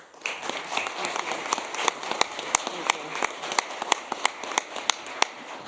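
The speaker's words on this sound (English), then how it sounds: "Let's give her a round of applause." Audience applause at a live news event, clear, individually distinct claps from a modest crowd, rhythmic and close, building slightly and lasting several seconds without talk.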